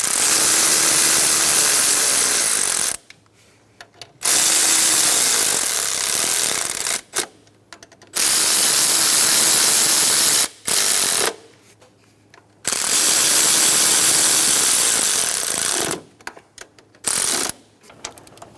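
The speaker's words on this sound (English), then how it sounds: "Snug the bolts down." Ratchet clicking in short rapid bursts while snugging down throttle body bolts on a 2014-2018 Chevrolet Silverado 1500 5.3L V8, each run of clicks separated by brief pauses, close and fairly loud with no talking.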